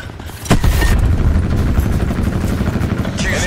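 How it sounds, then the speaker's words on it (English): Attack helicopter in Call of Duty: Black Ops 4 multiplayer, a loud, steady rotor roar over a sharp boom, with gunfire and battle noise mixed throughout. "Attack helicopter ahead."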